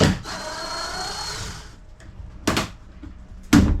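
Power driver sinking the last of 68 screws into a continuous hinge on a boat, a steady whirring run of about a second and a half, then two short sharp bursts close by, with no voices.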